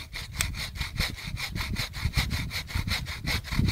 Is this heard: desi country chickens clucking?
no